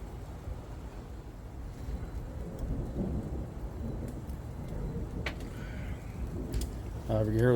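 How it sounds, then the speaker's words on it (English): Rain falls steadily in a continuous outdoor wash with faint rumbles of distant thunder beneath, heard during a backyard steak cookout, and a voice starts speaking at the very end. "We can hear the thunder, but we got some rain coming in,"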